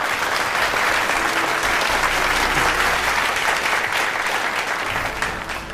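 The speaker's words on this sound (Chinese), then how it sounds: "掌声欢迎。" Sustained audience applause fills an award ceremony hall, steady dense clapping from a large crowd that continues throughout and eases slightly near the end.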